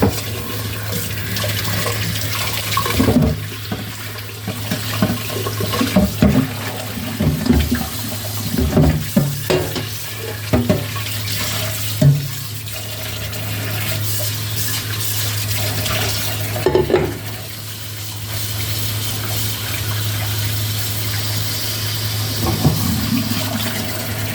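Beef feet are washed in a pot of water, with steady sloshing and splashing plus intermittent knocks and rubbing against the pot, close and fairly loud over a constant low hum.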